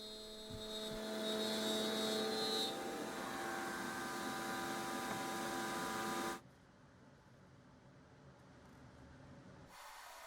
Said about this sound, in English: using a spiral upcut bit to cut out the slots slowly in multiple passes